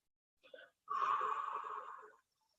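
A long, steady exhale through the nose or mouth during a guided morning breathing and relaxation routine, preceded by a short softer breath, close and quiet, with no talking.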